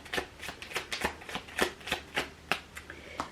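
A deck of tarot cards being shuffled, with a quick series of about a dozen crisp riffling slaps at an uneven pace, close and fairly quiet, with no voices.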